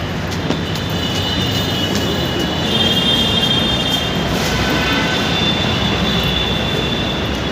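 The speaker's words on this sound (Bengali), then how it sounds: "ফাইনালি চলে এসেছি মেট্রোর কাছে" Metro train at a station platform, a steady loud rumble of wheels and carriages with faint high squealing tones throughout, no voices.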